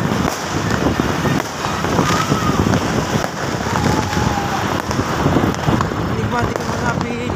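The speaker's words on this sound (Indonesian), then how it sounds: "Nikmati kembang api 2024." New Year's Eve 2024 fireworks over the town of Ende fire repeatedly, with sharp pops and bursts layered over a dense, noisy street crowd and a busy parade atmosphere.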